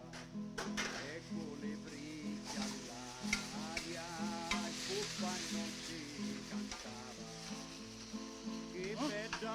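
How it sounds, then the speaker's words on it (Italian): Pasta sizzles in a frying pan with salt and chili while being stirred, giving a steady frying hiss with soft scrapes and occasional clinks, close, over background music. "Mescoliamo, si amalgama"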